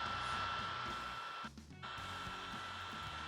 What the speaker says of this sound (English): Now let's try and weld some aluminium.